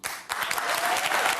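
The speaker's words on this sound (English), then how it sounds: "Liberals clapping for Bibi Netanyahu, who is not even fucking popular in Israel" A studio audience on Bill Maher's show applauds Benjamin Netanyahu, a dense, sustained burst of many hands clapping at once, loud and close, with a faint hint of voices.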